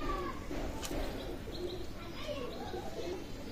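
Pakistani Teddy pigeons cooing close by, with soft, low, continuous coos against a constant background hiss.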